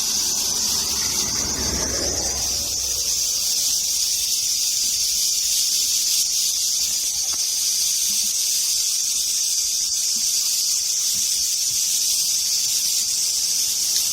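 A dense, loud, continuous buzzing drone of cicadas fills the air, steady throughout, with a brief rustle near the start.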